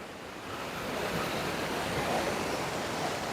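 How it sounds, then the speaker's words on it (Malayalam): Water rushes steadily over a large rock beside a bridge at a small waterfall near a rural village, with a continuous broadband roar and no voices throughout. "ചെറിയൊരു വെള്ളച്ചാട്ടം"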